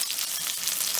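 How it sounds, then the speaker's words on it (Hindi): Cumin seeds, green chilli and garlic frying in hot oil give a steady, close, bright sizzling hiss with no pauses. "जीरा फ्राई हो रहा है, इसी टाइम पे मैं हरी मिर्च और लहसुन भी डाल देती हूँ"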